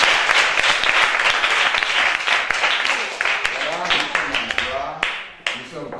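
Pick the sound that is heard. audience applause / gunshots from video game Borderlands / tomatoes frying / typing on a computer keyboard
audience applause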